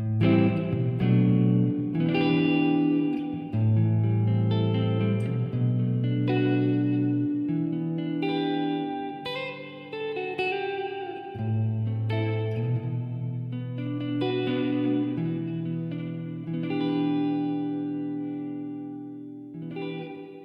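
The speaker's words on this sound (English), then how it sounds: "So here's with the spring reverb on this patch up a little bit higher." An electric guitar through a Line 6 HD500X with spring reverb plays slow chords and single notes, a splashy, echoing reverb trailing each note, the tails ringing out between phrases.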